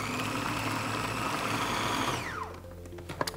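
A food processor whizzes a burger patty mixture with an added egg, a loud steady motor whir that runs continuously for over two seconds before spinning down with a falling whine, followed by a few light clunks.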